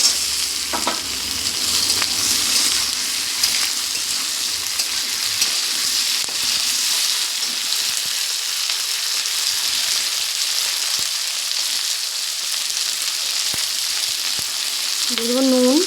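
Chopped tomatoes frying in hot oil give off a loud, steady sizzle with stirring, continuous and close throughout, with a brief voice at the very end.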